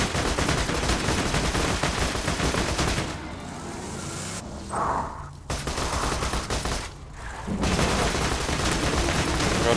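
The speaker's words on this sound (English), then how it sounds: "There is no escape from my machine guns." Dense, loud machine gun fire in Borderlands 2 rattles in long bursts, pausing briefly twice before resuming at full intensity.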